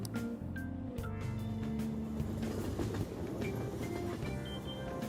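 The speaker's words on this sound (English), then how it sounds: "Oh, the train is here." A train pulls into a station in the video game Persona 5 Royal, a steady rumble and rattle of rail cars with faint clicking, alongside background game music.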